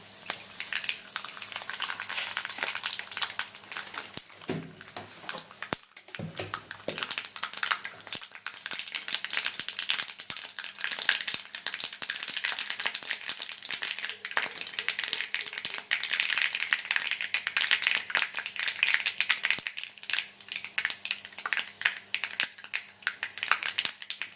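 Mustard seeds crackling and popping in hot oil in a pan, a continuous busy sizzle with scattered sharp pops, and a brief clatter of stirring partway through.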